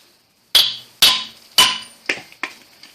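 Five loud, ringing hammer blows strike to drive out the CV axle of a Nissan Altima. The first three are heavy and the last two are lighter, coming at a steady pace up close with no speech.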